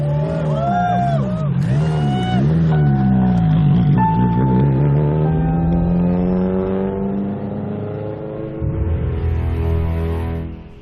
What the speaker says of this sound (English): One by one, the cars leave Park Exposé for the surrounding forest for the final day of the rally.